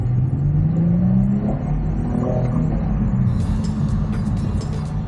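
A 2.5-litre hybrid Toyota Crown Crossover (AZSH35) accelerates at full throttle from about 50 km/h, its engine tone climbing steadily under a rumbling cabin drone, with a few faint clicks near the end.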